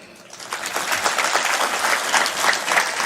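A crowd applauds a motivational speech about Chhatrapati Shivaji Maharaj, a dense, sustained clapping that swells after a quieter start and carries on evenly.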